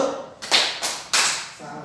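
A class of students claps together in a classroom, three sharp broadband bursts of group clapping in an irregular rhythm, moderately close, with no talking.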